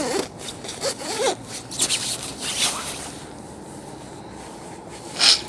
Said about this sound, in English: zip this up, I should say.